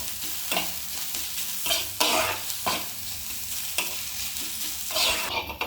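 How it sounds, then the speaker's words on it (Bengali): Grated ginger and chopped garlic frying in a pan, a moderate sizzle broken by repeated scraping stirs at an uneven rhythm, close by and without talk. "আদা রসুন ভাজা হয়ে গেছে।"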